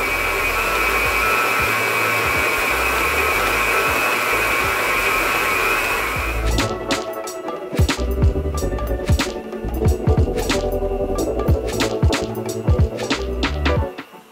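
A stand mixer kneads sticky pastry dough for Portuguese custard tarts, a steady loud motor whir that stops midway, followed by scattered clanks and knocks as the dough is handled.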